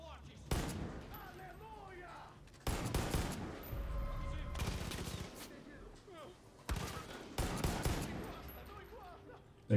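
Bursts of gunfire from the video game Far Cry 5, arcade-mode bounty hunt, come in three loud clusters of rapid shots separated by brief lulls, with game ambience between them.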